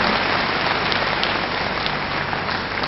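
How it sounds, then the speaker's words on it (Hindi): Audience applause welcoming a guest at a birthday gathering for a Shankaracharya, dense steady clapping from a large crowd, continuous and fairly loud for the whole stretch with no talk over it. "आप लोग तालियों के साथ इनका स्वागत करें।"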